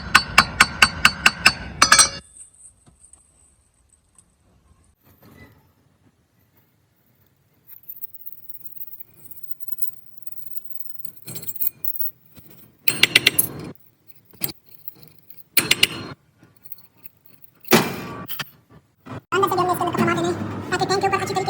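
A metal rod or large screwdriver is jabbed inside the tank of a gas geyser during a thermostat replacement, giving sharp metallic clanks and scraping rattles in irregular bursts with quiet gaps, while someone talks.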